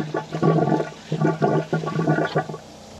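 An RV toilet flushes pink antifreeze through the plumbing during winterizing, a short close gurgling rush of water in several surges over about three seconds, with no voices.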